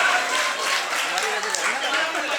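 Audience applause at a mushaira poetry gathering in Bijnor: steady, dense clapping from a crowd that holds for a couple of seconds at moderate loudness with no break.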